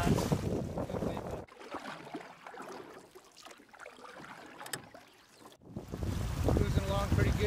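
A 20-foot Voyager 20 sailboat on a beam reach off Ventura at a little over 5 knots, with steady wind and water rush loud at the start and end, softer in the middle, and a voice talking over it.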